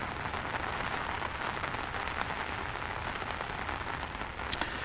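Steady rain falls during a cold spell in Delhi, a dense, even hiss of drops on surfaces that carries on without pause, with one brief sharper tick near the end.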